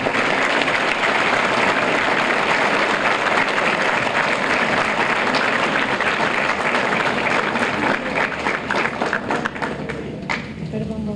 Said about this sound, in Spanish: Yo quiero que le demos un fuerte aplauso para que atienda.